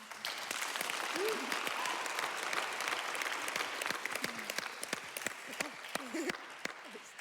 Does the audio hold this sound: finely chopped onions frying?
no